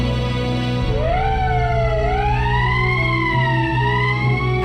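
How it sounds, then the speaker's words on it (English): An emergency siren in the Valkyria Chronicles video game wails steadily, rising and falling in long sweeping tones over a constant low hum, loud and close with no talking. "That's the emergency siren."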